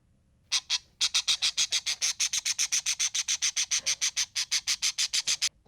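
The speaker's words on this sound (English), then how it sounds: "parrot" A parrot gives a rapid series of harsh, raspy squawks, two quick calls, then a long, steady run of about thirty evenly spaced shrieks, close and loud against a quiet background.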